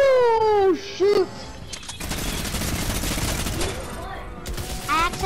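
Fortnite gunfire crackles in a dense, sustained burst of rapid shots, preceded by brief tonal game sounds and faint talk in the background.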